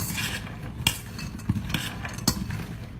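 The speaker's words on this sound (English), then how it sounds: "I want to just mix that around to make sure that the pecans are coated" A spoon stirs pecans through egg white in a bowl, giving a steady wet rubbing and scraping with several sharp clinks against the bowl side at irregular intervals.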